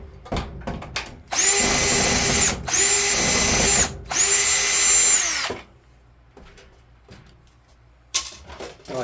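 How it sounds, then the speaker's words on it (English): Powered Phillips driver backing screws out of a Kenmore 90 Series dryer control panel, three loud sustained whirring bursts with brief pauses, surrounded by handling clatter and clinks of parts, close and with no talk. "That's where we're going to use the Phillips head screwdriver."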